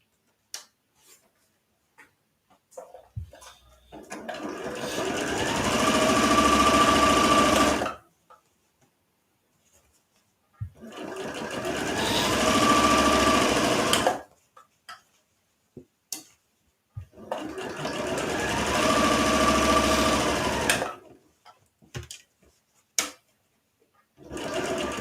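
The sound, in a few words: sewing machine straight stitch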